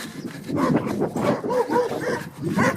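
A dog greets a German Shepherd on a walking route with a run of eager, close yips, whines and short barks in irregular bursts, with no talking.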